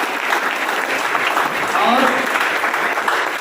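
Clapping from an audience at a state civil service interview session, a steady broadband patter lasting a few seconds with a voice speaking over it.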